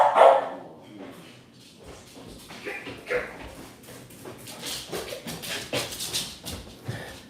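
A dog barking indoors in a home, repeated sharp yaps and whimpers at varying loudness, heard close by, with someone talking over parts of it.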